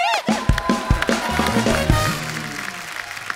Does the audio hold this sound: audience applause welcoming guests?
yes